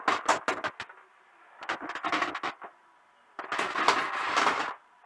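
Loose internal parts rattling inside an LG 32LB560B LCD TV as it is handled: three bursts of clattering, scraping rattle separated by short silences, fairly close and moderately loud.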